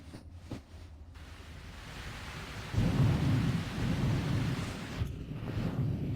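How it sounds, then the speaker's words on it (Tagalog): Heavy rain bursts into a sudden downpour during rush hour, a dense rushing wash that swells abruptly midway and stays loud and steady, with low rumbling underneath. "Biglang bumuhos ang malakas na ulan ngayong rush hour."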